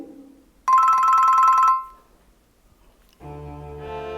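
A telephone ringtone sounds in a loud electronic burst, pauses, then begins again with a new melodic phrase.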